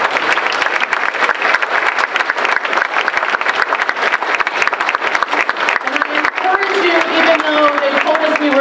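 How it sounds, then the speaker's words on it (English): Audience applause at a panel discussion event, dense continuous clapping that stays loud throughout, with voices emerging faintly toward the end. "So one final round of applause for our partners, our panel, and you, the audience."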